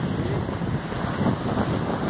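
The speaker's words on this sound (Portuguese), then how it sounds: "Mas o mar continua tentando destruir o que está sendo feito. Muito violento hoje, novamente" Rough sea waves pounding a beach where shoreline construction works are under way, a dense, continuous roar of surf mixed with heavy wind buffeting the microphone, no talking.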